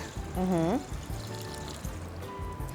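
Milk is poured into yeast while mixing dough for bolo do caco, the Madeiran flatbread: a brief, quiet splash and trickle in a kitchen setting, followed by faint handling sounds.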